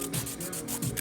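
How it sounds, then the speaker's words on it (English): Quick, rhythmic rubbing strokes of a nail buffer on acrylic nails, about a dozen back-and-forth scrapes in rapid succession, close and dry-sounding. "you got to buff to smooth it all out"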